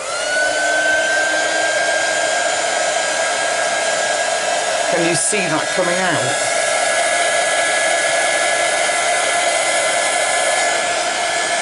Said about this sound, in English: Let me take a heat gun quick, excuse the noise, to this Mod Podge.